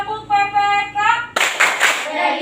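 A sixth-grade class at an Indonesian primary school performs a rhythmic clap chant, with a chanted tonal voice first. Then comes a burst of sharp, close hand claps in quick patterned groups.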